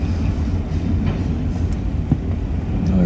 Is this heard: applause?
no